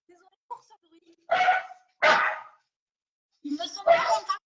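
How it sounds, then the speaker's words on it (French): Dogs bark in a few separate close bursts with short gaps between, preceded by faint whimpers and small yips. "vous ne m'entendez pas quand il aboie"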